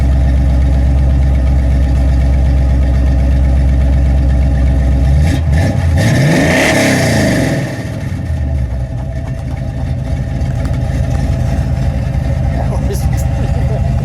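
The 302 V8 engine of a 1972 Ford Maverick Grabber idles with a low rumble, then revs sharply once with a rising roar before settling back to a steady, throaty idle.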